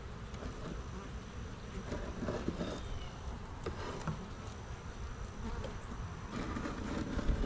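Honey bees buzzing inside an opened hive box during an October inspection, a steady dense hum that fills the whole stretch with small rises and no pauses.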